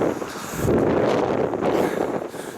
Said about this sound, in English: But it is very windy today.